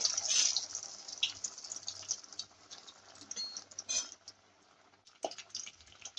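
Breadcrumb-coated paneer tikki frying in hot oil gives a bright crackling sizzle that swells and ebbs, with sharper spattering bursts and a faint low hum beneath.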